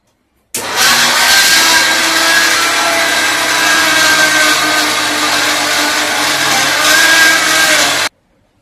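Loud, continuous whirring of a mixer grinder grinding mustard seeds, running for around seven and a half seconds, starting and cutting off sharply, with no voices.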